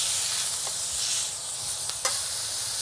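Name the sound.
beef joint searing and sizzling in pan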